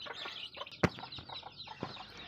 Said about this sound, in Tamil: கோழி குஞ்செல்லாம் மேய போகுது.